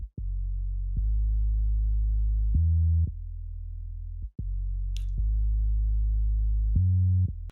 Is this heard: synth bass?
yes